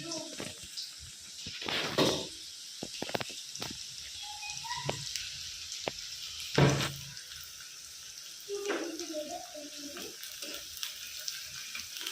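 Onion frying in a pan, a soft, steady sizzle under a voice, with a few clinks and stirring knocks from a utensil in the pan.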